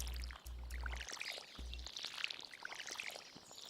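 A watering can wetting crops in Stardew Valley, a soft pouring trickle of water running for a few seconds beneath a low game tone that cuts in and out.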